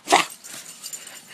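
A dog lets out one sharp, close bark or yelp followed by soft whimpering and breathy whining that trails off quietly, with no voices over it, at a New Year gathering at home.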